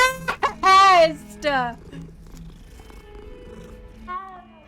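A cat in the Hogwarts Legacy video game gives several loud, drawn-out meows in quick succession followed by a softer one, with a faint purr beneath; no one talks.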